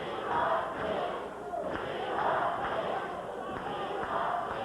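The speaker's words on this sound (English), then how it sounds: "Now the crowd chanting, "We want Dean."" A wrestling arena crowd chants rhythmically in rising and falling waves, with a commentator's voice running over the noise.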